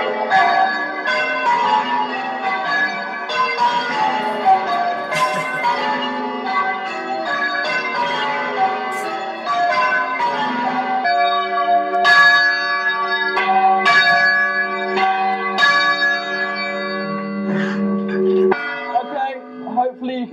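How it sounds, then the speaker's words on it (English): Loud church bells peal continuously, overlapping strikes ringing out close by, with a voice speaking faintly beneath them. "these bells are quite loud, and you can imagine, you can hear them miles away"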